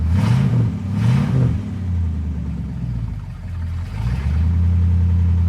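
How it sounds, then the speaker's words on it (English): A warmed-up 1963 Ford Galaxie 500 V8 running with the air cleaner top off, a steady low idle rumble with a couple of short revs near the start and another blip later, close and alone. "The engine is warmed up"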